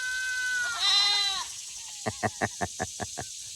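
Goats on a homestead pasture bleating: one long wavering bleat, then a quick run of about eight short rhythmic bleats, close and clear with no talking.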